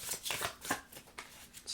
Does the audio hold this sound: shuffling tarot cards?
yes